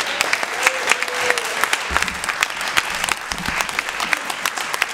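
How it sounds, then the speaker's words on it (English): A convention feedback panel audience breaks into a big round of applause, steady dense clapping that carries through the whole stretch at a fairly close, full level. "Big round of applause."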